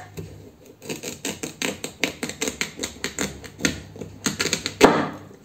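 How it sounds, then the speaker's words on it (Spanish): A knife cuts pieces of sweet potato in half on a board, producing a quick series of crisp, close taps and slicing knocks, ending in a sharper final chop. "Ahora cada pieza la voy a partir a la mitad."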